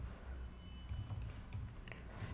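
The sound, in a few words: computer keyboard typing while coding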